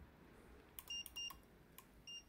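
A Magicar car alarm pager beeps on remote engine start, a handful of short, thin electronic bleeps in quick clusters against a quiet room hum.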